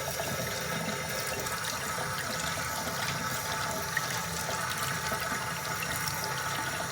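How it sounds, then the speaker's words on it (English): Hot tap water runs steadily as a removable dishwasher part is rinsed under it, making a constant hissing splash with no talk. "Give it a rinse. Make sure it's hot water."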